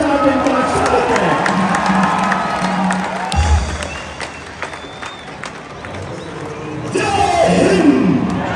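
A large outdoor crowd at the Attari-Wagah border ceremony cheers and applauds to welcome Indian fast bowler Umran Malik, a loud roar with clapping under an announcer's voice, which dips midway and then swells again.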